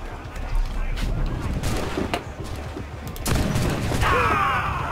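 Ship cannons boom in a naval battle in Assassin's Creed 4 Black Flag, with several heavy, muffled blasts over a rumbling sea background, fairly quiet overall, and a brighter burst of noise toward the end.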